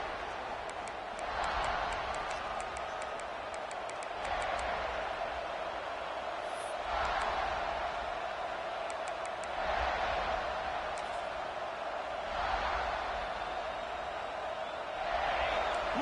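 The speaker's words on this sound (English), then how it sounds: "Listen to the crowd energy here in the early going." Stadium crowd noise in EA Sports College Football, a steady roaring wash of fans that swells in waves every few seconds, with faint commentary voices over it.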